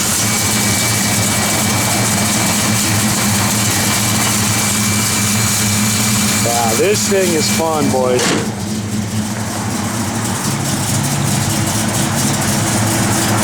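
A 1956 Ford Customline old-school hot rod with a lumpy cam idles steadily, loud and close, its low rumble continuous while someone speaks briefly partway through.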